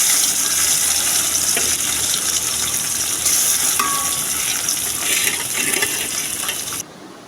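Fish frying in hot oil in a wok gives a loud, steady, close sizzle with a crackling hiss that runs throughout and drops off sharply at the very end.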